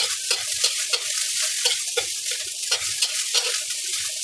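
Kimchi fried rice sizzling in a pan while being stirred, a steady hiss of frying broken by repeated scraping and tapping strokes of the utensil, close and fairly loud.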